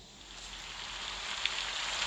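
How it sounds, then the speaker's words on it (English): Steady rain falls in a dense, even hiss that swells slightly, with a single sharper drop tap near the end and no voices. "Just let it rain."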